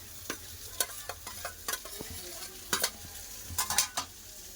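Onion and flat beans being stir-fried together in a pan with chilli powder, a low sizzle broken by repeated sharp scrapes and clacks of a spatula in an irregular rhythm, close up with no talk.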